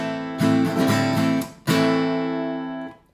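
An acoustic guitar strums the bridge of a song in two bursts of quick strokes. Each burst is left ringing, and the second fades out slowly.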